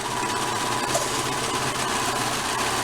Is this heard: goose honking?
no